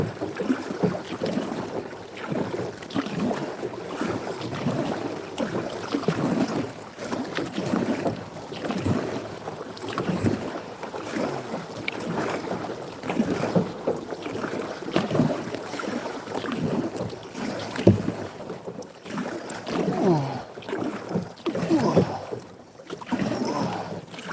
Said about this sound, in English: Wear my daggum arms out paddling before I get the fish